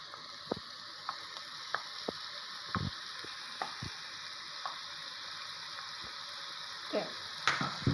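Mushrooms frying in a pan as a pizza topping, a steady close sizzle with scattered clicks and scrapes of stirring throughout.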